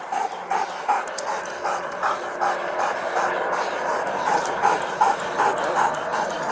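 A police dog pants rapidly and whimpers in steady rhythm close by during a nighttime arrest, with a continuous rumbling background and no clear barks.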